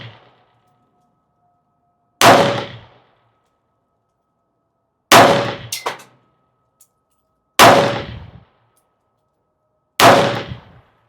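Four sharp, loud shots from a Ruger LC Charger with a non-threaded barrel firing Elite S4 28-grain 5.7x28 ammunition outdoors, spaced a few seconds apart, each with a short ringing decay and one followed by a quick clink.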